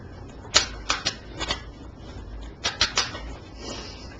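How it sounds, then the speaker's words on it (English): Tarot cards shuffled close by, a series of crisp, rapid riffling clicks in two clusters separated by a short pause, over quiet room tone. "There's no quiet way to shuffle."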